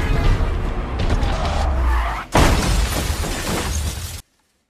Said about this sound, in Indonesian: Akibat serangan dari Jericho itu, mobil itu pun terbalik.